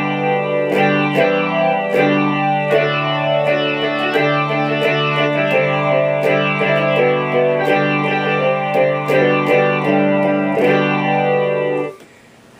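Sampled Rickenbacker 12-string guitar with chorus added plays a jangly run of picked notes and chords, bright and continuous, stopping just before the end, with no voice.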